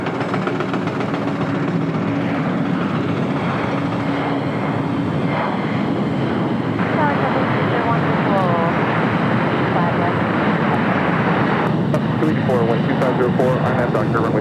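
A United Boeing 777-200 airliner pushing back at LAX produces a continuous jet-engine roar and whine, steady and fairly loud, with a voice talking over it throughout.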